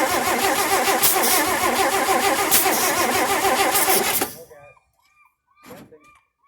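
A 1958 AMC Rambler Super's engine cranks steadily for about four seconds without catching, then cuts off into near silence broken by brief voices.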